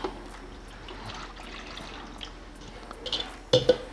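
A cup of water is poured into a food processor for piña colada, with soft dripping and trickling and a brief louder splash near the end.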